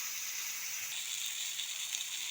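Patol, or pointed gourd, sizzles in a frying pan as a constant quiet hiss with faint crackles scattered through it, and no one talks.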